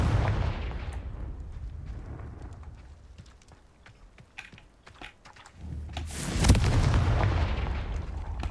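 Fire-spell blasts in the Hogwarts Legacy video game: a crackling burst opening the clip, scattered sharp pops and clicks through a quieter middle, then a louder roaring explosion around the sixth second that trails off into rumbling noise.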